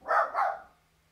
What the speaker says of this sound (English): Aria or Joy just barked downstairs